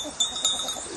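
Goats and sheep from a monastery flock bleat in a couple of short, nasal calls, fairly close, over a faint outdoor background.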